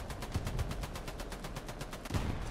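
Rapid cannon fire from an LVT-4/40 amphibious vehicle in the War Thunder video game: a steady, fast string of evenly spaced bursts of moderate loudness with muffled low thumps under them.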